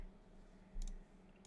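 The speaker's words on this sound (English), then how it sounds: "Oh, I'm clicking on the wrong thing anyway." Computer mouse clicks sound while browsing a family tree on a genealogy site: two or three quick, close, sharp clicks around the middle of the clip, then a faint pair near the end, over quiet room hum.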